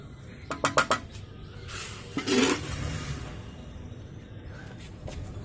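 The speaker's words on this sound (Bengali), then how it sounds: "ওপর থেকে মাটি ঢেলে দিচ্ছি।" Soil is poured into a pot while repotting a medium-sized Ficus rumphii bonsai, giving a rough, grainy rush after a few sharp clinks, close and moderately loud.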